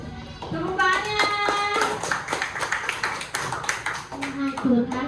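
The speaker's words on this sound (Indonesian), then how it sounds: "Tepuk tangannya." Students in a classroom clap together in a short burst of quick, close hand claps, while children's voices and a teacher's speech carry over and between them.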